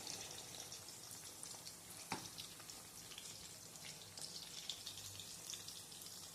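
Pieces of chilli chicken frying in oil in a pan over a low gas flame, a quiet steady sizzle and crackle with a few sharper pops scattered through, and no talking.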